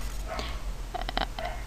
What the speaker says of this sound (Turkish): Şu köpek de artık sinirlerimi bozmaya başladı ama ne yaparsın.